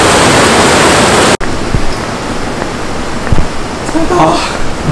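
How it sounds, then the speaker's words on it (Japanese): Loud rushing river water roars continuously at a fishing weir on the Itadori River, a dense broadband wash that briefly drops out before resuming, with faint voices underneath. "やっぱり川の音の方がすごいんです"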